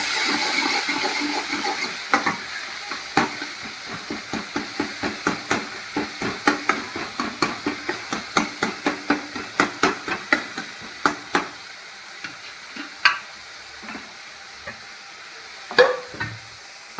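Tomatoes sautéing in a pan for a village-style radish kara kuzhambu, a steady close sizzle broken by a long run of quick rhythmic stirring scrapes that thin out toward the end, with no voices.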